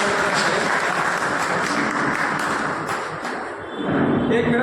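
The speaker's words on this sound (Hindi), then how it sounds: "एक बार जोरदार ताली बजाकर एक साथ सब" Crowd at a Rashtriya Lok Dal regional political conference in Sujangarh, Rajasthan, applauding loudly and steadily with dense, continuous clapping, dipping briefly near the end before swelling again.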